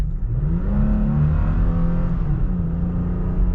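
A 2022 Toyota Tacoma TRD Sport pickup accelerates hard, its engine roaring loud and close as the pitch climbs steadily, dips briefly at a shift, then keeps rising, with no talking.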